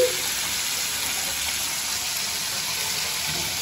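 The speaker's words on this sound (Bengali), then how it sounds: "ভাজা বসিয়েছি" Boroli fish frying in a pan, giving a steady, even sizzle that runs unbroken at moderate loudness with no talking.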